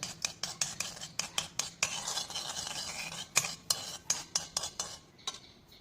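A spoon stirs an aloe vera gel hair dye paste in a bowl, making close, rhythmic tapping and scraping strokes in a quiet room with no talk.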